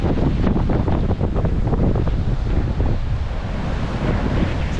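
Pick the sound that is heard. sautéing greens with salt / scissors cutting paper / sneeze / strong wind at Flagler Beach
strong wind at Flagler Beach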